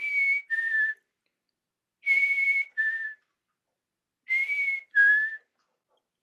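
A person whistles an imitation of a chickadee's two-note call, repeated three times as clear paired tones separated by silent gaps.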